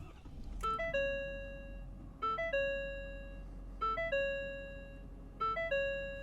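Startup chimes of a 2025 Ford F-250 Super Duty 6.7 diesel pickup: four loud, bright descending chime sequences with clear tones, repeating at roughly even intervals over a steady low diesel idle clatter.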